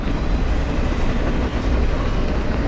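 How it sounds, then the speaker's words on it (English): A freight train with a distributed power locomotive passes close on the CN Graham Subdivision, filling the air with a loud, unbroken rumbling roar and no voices. "I do now know that the middle or tail end locomotive is a DPU"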